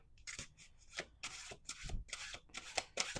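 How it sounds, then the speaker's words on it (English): Quick riffling bursts of playing cards being shuffled, several rapid flutters in a row, close and fairly soft. "Okay, two more shuffles."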